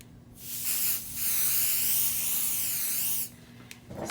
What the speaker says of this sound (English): what I want to do is spray this with some basting spray